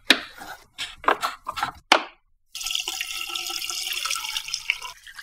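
Coolant pouring out of a BMW E46 330Ci radiator with its drain plug missing, a steady splashing gush that starts after a few sharp clattering knocks and continues alone.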